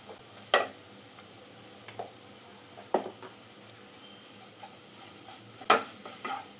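Bitter gourd being stirred in a pan with turmeric and chili powder: soft scraping strokes over a faint background, with a few sharper knocks of the spoon spaced a second or two apart.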